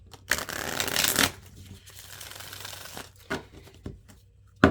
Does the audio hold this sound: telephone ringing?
no